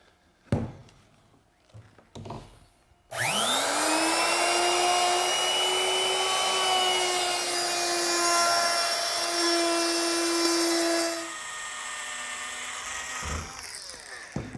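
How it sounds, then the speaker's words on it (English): A power tool spins up sharply and cuts along the edges of an oak backsplash clamped in a vise, a loud sustained whine with a steady tone that drops to a lower level near the end, after a few light knocks. "So I've got a piece clamped down in the vise here. It's about 4 inches wide, and I'm going to chamfer 3 edges."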